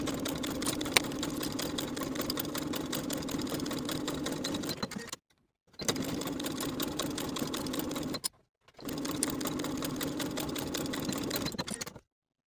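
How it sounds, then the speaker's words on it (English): A sewing machine stitching the shoulder seams of a shirt with a half-inch seam allowance, a fast, even mechanical whirring in three close bursts separated by short pauses. "Then we can sew our shoulder seams with a 1/2-inch seam allowance."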